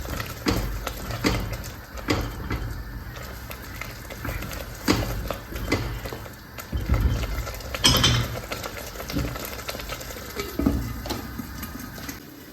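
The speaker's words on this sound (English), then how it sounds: "I'll start chopping up the fish into smaller portions." A knife knocks against a cutting board in irregular chops, cutting tilapia fish into portions, with clinks of utensils and dishes in a busy kitchen.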